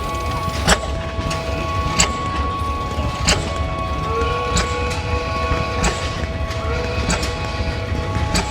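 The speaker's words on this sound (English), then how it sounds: "There was a steam engine whistle." A steam engine whistle at an outdoor gas engine and tractor show sounds as a distant, sustained tone, with old engines popping in a steady, evenly spaced rhythm nearby.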